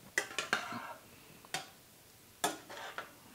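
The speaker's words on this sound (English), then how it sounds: "big spoon, big stir" A big spoon stirring beef stew in a pot, a few quiet clinks and scrapes spaced irregularly against the pot, close and faint.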